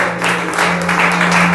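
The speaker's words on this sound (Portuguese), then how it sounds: "Quantos podem aplaudir a Jesus?" A church congregation claps together, a brief dense burst of applause with a steady low hum underneath.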